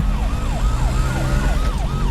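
An ambulance siren wails in a fast, repeating up-and-down pattern over low traffic rumble, loud and steady throughout.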